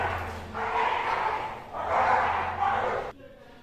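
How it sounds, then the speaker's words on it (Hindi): Several dogs in a residential neighbourhood bark and yelp in two long loud bursts, fairly close, with a steady low hum beneath and the barking cutting off near the end. "हमारे मोहल्ले में कुत्ते की बरसात हो रखी है, फुल कुत्ते हैं।"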